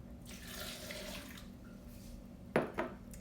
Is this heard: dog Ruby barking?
no